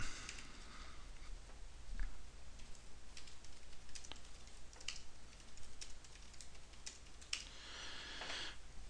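Go code being typed on a computer keyboard, a soft run of irregular key clicks and taps at close range, fairly quiet and without talk.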